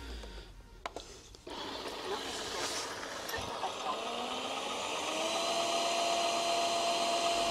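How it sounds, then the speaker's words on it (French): An Ecovacs Deebot Ozmo T9 robot vacuum switches on after a few faint clicks and settles into a steady, close whirring hum that continues to the end. "On relance l'aspirateur, c'est parti"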